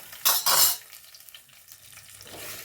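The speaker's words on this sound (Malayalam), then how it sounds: "ഒന്ന് ഇളക്കി കൊടുക്കാം കേട്ടോ" Okra stirred in a pan of coconut oil, with two loud bursts of scraping and sizzle early on, then a softer ongoing fry with faint clinks.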